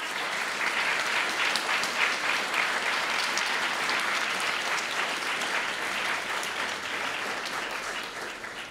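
Loud, sustained applause from a large crowd at a school opening ceremony, steady clapping throughout that tapers slightly toward the end.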